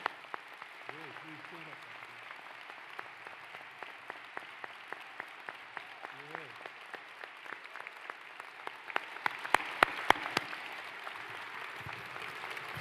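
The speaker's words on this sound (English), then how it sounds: "give them a round of applause for all that they've done" Light, scattered audience applause at a commencement ceremony builds toward a denser burst near the end, with a voice briefly heard early on.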